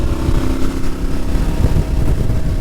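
KTM 1290 Super Adventure motorcycle accelerating in sixth gear on a highway at around 110 km/h, a steady loud engine drone with rumbling low end and wind roar, continuous throughout with no talking.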